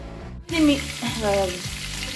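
Chopped Malabar spinach stems, potato and eggplant hit hot oil with panch phoron, giving a sudden loud sizzle that settles into steady close frying with light stirring.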